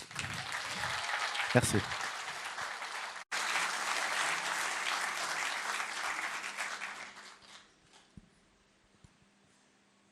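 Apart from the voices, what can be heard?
audience applause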